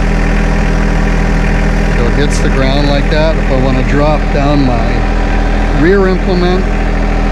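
The engine of a John Deere 2025R compact tractor idles steadily with a constant low rumble, while a person talks over it close by.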